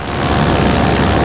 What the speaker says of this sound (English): That is definitely a noise that's new. I wonder if that's a belt noise.